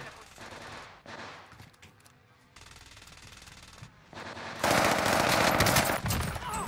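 Bursts of rapid video game gunfire crackle in waves, growing denser and louder toward the end, with muffled voices underneath.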